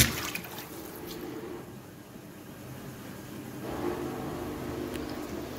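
Water rushes steadily under pressure into a blocked kitchen sink, a continuous close hissing gush that briefly surges midway.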